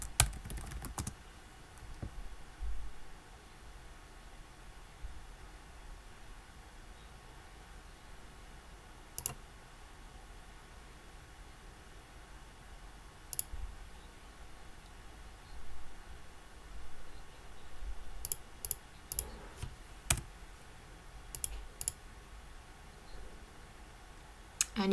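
Computer keyboard typing and mouse clicks while installing a WordPress plugin, with quiet scattered keystrokes through most of the stretch and a denser burst of clicks and taps near the end.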